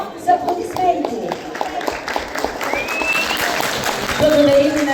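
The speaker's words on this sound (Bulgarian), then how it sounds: "Изпращаме ви с какво? С аплодисменти." An audience applauds carol singers from Yambol at a Christmas event, a dense burst of clapping close by for several seconds, with voices and a few tonal calls mixed in.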